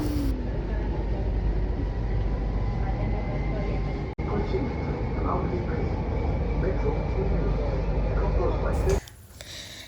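A steady rumbling roar inside a Kochi Metro train fills the whole ride, constant and close, with a brief dropout midway and a change in tone at the end.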